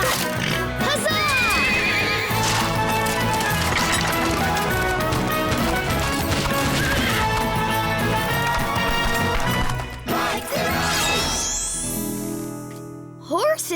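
Cartoon horses whinny and hooves clip-clop amid busy, loud music and effects in a children's animated Christmas story, with a brief crash and a sustained tonal swell near the end.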